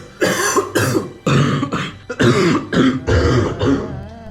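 A traveller crossing Morocco by bicycle coughs repeatedly after arriving in Tangier, a run of about eight harsh, throat-clearing bursts in close succession, loud and close with brief gaps between them.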